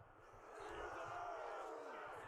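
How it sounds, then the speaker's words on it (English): Soldiers cheering on a siege ladder during a castle siege battle in Mount and Blade 2: Bannerlord, a brief swell of distant crowd shouting and battle cries, faint and blended. "Cheering on the ladder."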